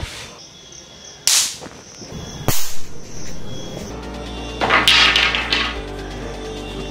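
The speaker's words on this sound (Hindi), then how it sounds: "यहाँ पे मैं सुरक्षित दूरी से एक डंडे की मदद से इनको डिस्चार्ज करने वाला हूँ।" Charged capacitors, fifteen of them wired to a ceiling fan, discharged with a stick: two loud sharp bangs close together, then a dull running hum and a bright crackling burst.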